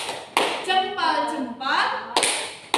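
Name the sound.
children doing a 'tepuk salut' clapping chant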